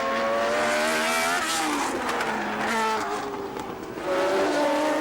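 Turbocharged Renault and other Formula 1 cars race at the 1981 Argentine Grand Prix, engines screaming loudly throughout with rising and falling pitch as cars pass and shift, a continuous wall of racing engine noise.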